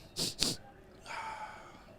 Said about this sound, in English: Here come the sniff.